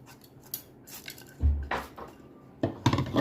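Tempering is tipped into a mixer jar: a few clinks and scraping knocks of spoon and pan against the jar, with a heavier thud midway and another clatter near the end, close and without talk.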